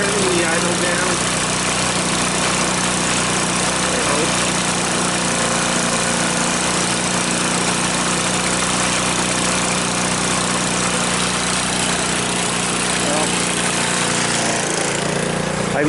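Salvaged GY6 150cc engine on an off-road go-kart idling in a steady, close, rough buzzing drone that holds for the full length, with a voice talking over it.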